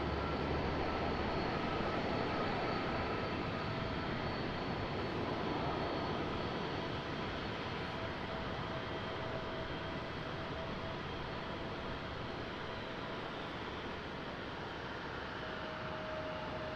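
A JetBlue airliner takes off from Raleigh-Durham International, heard as a faint, steady distant engine roar with a thin whine, no talk over it.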